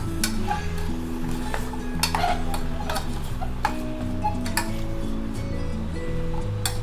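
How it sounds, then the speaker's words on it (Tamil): Chicken stirred with salt in a pot for restaurant-style chicken soup, repeated close scraping and clinking of a spoon against the pot in a steady rhythm over a low sizzle, without speech. "சால்ட் ஆட் பண்ணிவிட்டு நம்ம நல்லா கலந்து விட்டுடலாம்."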